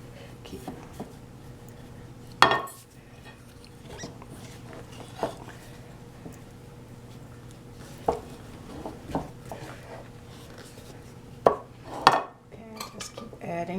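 Intermittent soft clatters and thumps of pulla dough, a Finnish cardamom sweet bread, being mixed by hand in a bowl, with a few sharper knocks against the bowl over a steady low background hum.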